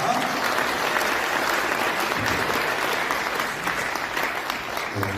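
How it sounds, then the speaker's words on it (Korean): Steady, dense audience applause welcomes a theology professor at a Korean church lecture, filling the room evenly from start to finish with no speech over it. "여러분 큰 박수로 환영해 주시기 바랍니다"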